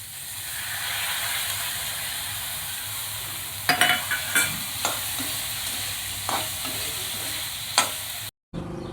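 Kadvanchi vegetable with soaked lentils stir-fried in a pan, a steady sizzle and hiss broken by a few sharp clinks of the spatula, close and moderately quiet.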